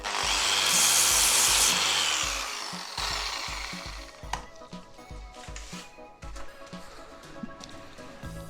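A power tool grinds against a wooden dowel to put a point on it, a loud whirring abrasion for about three seconds that gives way to quieter scraping and intermittent clicks during terrace balustrade work.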